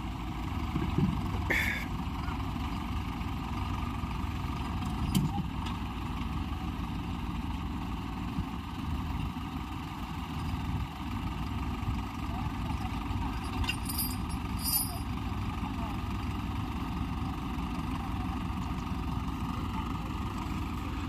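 A Holland 5620 or Sonalika tractor engine runs steadily at a distance, a low continuous rumble with a few faint clanks over about twenty seconds.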